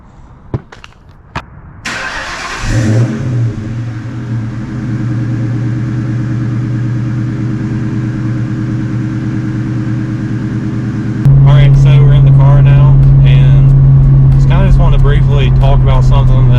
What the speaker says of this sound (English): I am gonna go ahead and get a cold start of my very quiet car